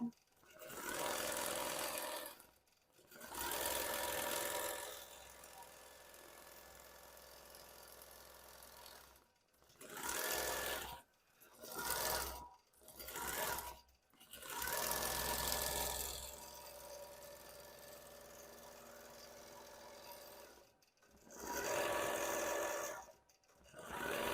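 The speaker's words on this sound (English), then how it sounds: "it's going to stitch the entire outline of this pink umbrella" A sewing machine stitches the outline of a pink umbrella appliqué on a placemat in bursts of steady mechanical whirring, separated by short pauses and quiet gaps.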